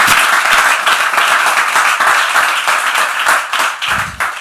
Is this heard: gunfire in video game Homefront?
no